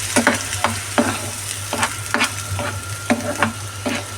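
Ingredients fry in hot oil with a steady sizzle, close and clear, while a utensil stirs them in a rhythmic series of scraping taps.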